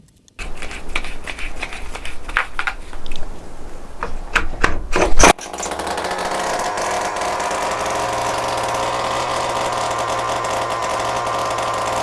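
STIHL MS 180 chainsaw being pull-started with several rough rasping pulls, then catching and settling into a steady, close, loud two-stroke idle.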